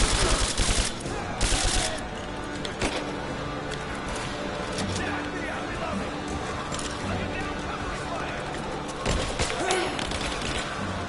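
Gunfire in the video game Rise of the Tomb Raider, bursts of rapid shots and thuds early on, then a dense, steady stream of combat noise with a voice talking over it.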